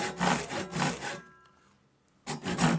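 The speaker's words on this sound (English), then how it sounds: "I used a rip saw to make a bit thicker kerf" Rip saw cutting a thicker kerf into a wooden handle for a mini sledgehammer, heard as loud rhythmic rasping strokes, a pause of near silence, then renewed sawing.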